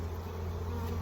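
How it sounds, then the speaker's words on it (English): A dense, steady hum of many honeybees swarms up from an opened hive box during a spring split, close and continuous with no talking. "wow, this is a lot of bees"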